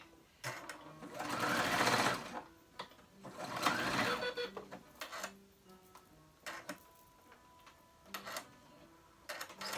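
A sewing machine stitches overlapped ends of clear elastic for an off-shoulder top, running in two longer bursts followed by short stop-start runs, close and clear with no talking.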